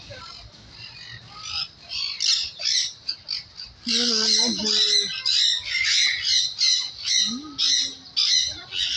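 Loud, harsh bird squawks ring out again and again in quick bursts, with people talking over and between the calls.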